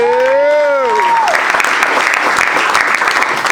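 A crowd in the Heineken Green Room applauds a rapper. A brief sliding, whistle-like tone opens the moment, then loud, sustained clapping fills the room close by.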